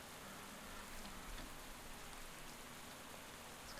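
Steady rain pours throughout a cycling race in Pro Cycling Manager 2021, a dense, even hiss of drops on surfaces with no voices over it.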